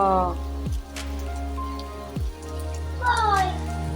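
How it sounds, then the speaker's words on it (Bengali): Rain pours steadily during a hailstorm, a dense, even hiss of drops on surfaces that runs through the whole stretch, with voices and a few other sounds over it. "আবার বৃষ্টি শুরু হয়েছে"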